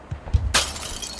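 Glass doors in the video game Human Fall Flat shatter in one bright, loud crash after a couple of soft thumps, with the breaking glass tinkling away briefly.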